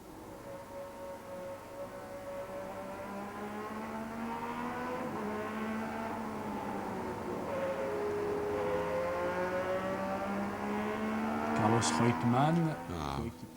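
Niki Lauda's Formula 1 car with an Alfa Romeo engine, heard onboard: a continuous high-revving harmonic whine that rises and falls through gear changes and grows louder toward the end.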